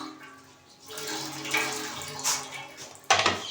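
Water is poured into a container to mix hand-feeding formula for baby parrots, a trickling splash that swells and fades, ending in a louder brief pour.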